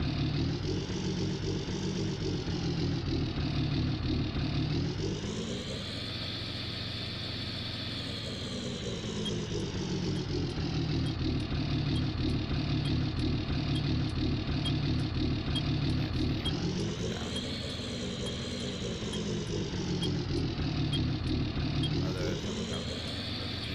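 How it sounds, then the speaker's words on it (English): A truck engine in Farming Simulator 19 runs steadily, its pitch swelling twice as it revs before settling back to an even idle, loud and continuous throughout with a voice talking faintly underneath. "I'm going to start the truck up and go to the dealership"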